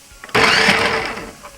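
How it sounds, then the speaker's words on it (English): A kitchen blender kicks on loudly to blend spinach, a sudden whirring roar that holds steady for over a second before easing slightly. "So now we're placing the spinach into the blender. Push it down and then start it up."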